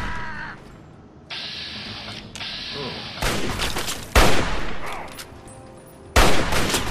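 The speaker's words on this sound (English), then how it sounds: "they're shooting at me." Enemy gunfire in the video game Fallout 3 arrives as loud, abrupt bursts of shots that stack into heavier volleys, over a busy game soundscape.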